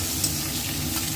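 Eggs frying in hot oil for a curry, a steady dense sizzle with faint stirring scrapes, close and even throughout.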